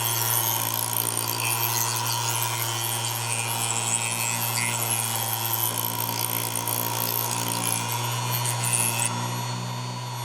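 A motorized leather edge burnisher whirs loudly at full speed, its steady high-pitched spin rasping and grinding against leather as the work is pressed in, with the tone dropping slightly near the end.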